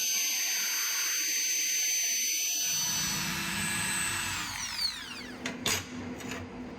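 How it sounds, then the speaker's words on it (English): A high-speed rotary die grinder with a carbide burr bit machines curved notches into a knife blade forged from motorcycle chain or rebar, a steady loud whine that spins down partway through, followed by a few sharp scraping bursts of the burr against the steel. "use a high-speed rotary die grinder with a carbide burr bit"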